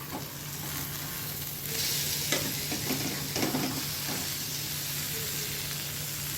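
Eggs frying in a pan for Andhra egg curry, a steady close sizzle with brief scraping and stirring as they are turned over, no voices over it.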